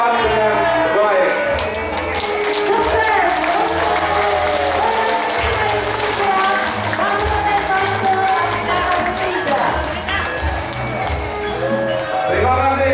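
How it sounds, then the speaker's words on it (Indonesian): An indoor audience of teachers at an Indonesian education festival claps steadily for several seconds, a dense, sustained round of applause with a voice speaking over it. "Tepuk tangan untuk rekan-rekan CGP sekalian."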